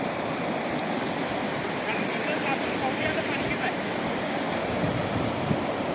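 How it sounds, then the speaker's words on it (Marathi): Continuous loud rush of water flowing at the Jigaon dam, a steady broadband roar close by, with faint voices blended into the noise. "हा इथं पाण्याचा प्रभाव आहे बघा"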